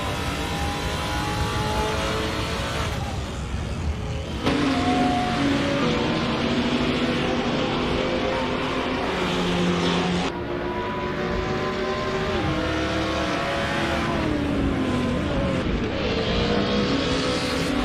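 Race car engines in a GT4 racing video game at Laguna Seca, with a Maserati dueling an Esperante, drone loudly and continuously. Several cars rev and shift through the corners in overlapping, rising and falling tones.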